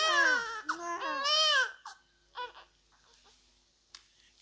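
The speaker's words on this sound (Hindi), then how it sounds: "ये रोने की आवाज कहां से आ रही है।" An infant wails in loud, close, rising and falling cries in two long bursts, then breaks off into a few short whimpers and faint sounds within a narrated story.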